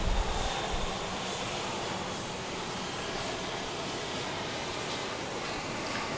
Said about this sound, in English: we've got a parade of Southwest planes now preparing for takeoff